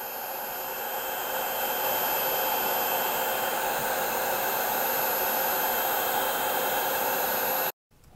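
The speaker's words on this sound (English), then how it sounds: "I'm not going to use my lighter. I'm going to just use my heat gun." A heat gun blows a loud, steady hiss close by while shrinking shrink wrap over paracord on a paddle leash. It runs unbroken for several seconds, then cuts off abruptly.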